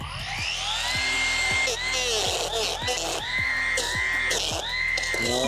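A battery-powered brush cutter fitted with an OCS-943S plastic three-blade head whirs loudly through grass on a rocky hillside slope, its pitch rising and dropping in repeated sweeps as it bites into growth.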